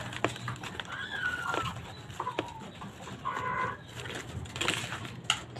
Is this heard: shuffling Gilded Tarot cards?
no